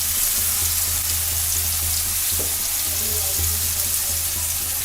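Onions and capsicum fry together in a pan with a loud, even sizzle held close, broken now and then by a faint stir or scrape, and no voices.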